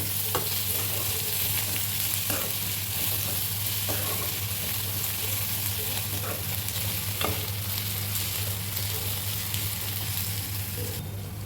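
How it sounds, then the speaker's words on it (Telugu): Onions with salt fry in a pan for a dried fish and tomato curry, giving a steady close sizzle with occasional stirring scrapes and a low constant hum throughout, no voices. "మూత పెట్టుకొని 5 మినిట్స్ వేయించుకోవాలి."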